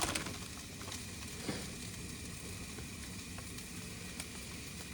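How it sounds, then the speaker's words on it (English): Onions cook in a pan, giving a faint, steady sizzle and crackle with a few small clinks of a utensil, no talk over it. "But I'm gonna let the onions cook a little longer."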